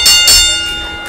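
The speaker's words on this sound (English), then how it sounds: "Awaiting the bell here." A wrestling ring bell at a live indie show is struck twice in quick succession, bright and ringing, with a long metallic decay that fills the hall.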